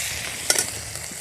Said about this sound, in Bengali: তেলের মধ্যে দিয়ে দিচ্ছি শুকনো লঙ্কা, পেঁয়াজ কুচি, পাঁচফোড়ন,